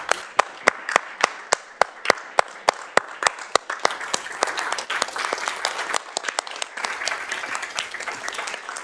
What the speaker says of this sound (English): we're going to all stand and we're going to applaud you